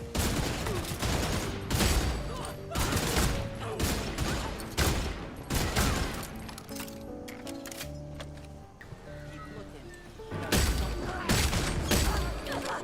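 Gunfire in the video game Redfall, including headshots, comes as loud, punchy bursts of repeated shots with brief pauses between volleys, layered over game music and effects.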